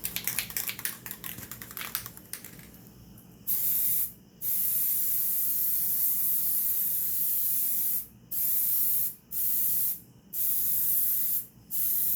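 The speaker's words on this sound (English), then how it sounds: "So let me go ahead and spray this for you so you guys can see." An aerosol can of Plasti Dip hisses in steady bursts of spray onto a wheel, stopping briefly between passes, with some clicking and rustling before it starts.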